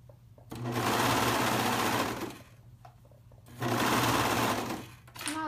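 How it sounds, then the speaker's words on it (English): A serger overlocks a seam on an open back pullover in two loud, steady runs with a pause between them, the motor humming up and then winding down each time. "always pausing as I serge to make sure nothing's like bunched up under there"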